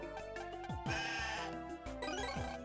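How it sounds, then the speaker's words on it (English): A sheep bleats in the video game Mega Man Star Force 2, a clear, wavering cartoon bleat that bends in pitch and repeats a few times over faint background game music. "A blue sheep."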